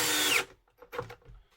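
A power drill drives a screw into wood for a wooden vegetable basket, one short whirring burst that winds down, followed by faint handling knocks.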